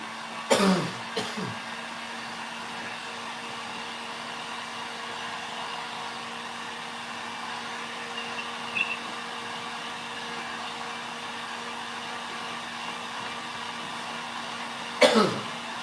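A heat dryer blows steadily to dry freshly stippled paint on a crafting surface, giving a continuous moderate whir broken by a couple of coughs and throat clears.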